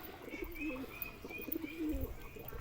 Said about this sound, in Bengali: আমার নিচে কিছু পায়রা আপনাদেরকে দেখা যায়